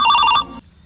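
A telephone gives a single short burst of bright, tonal electronic ringing that lasts under half a second and then cuts off sharply, leaving quiet room tone.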